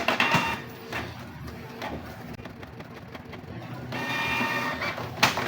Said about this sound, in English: nozzle check, printing.